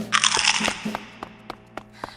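A cartoon crunching effect for a kids' food show: a loud, crisp crunch up front, then a series of sharper, fainter cracks and snaps spaced out over the next couple of seconds.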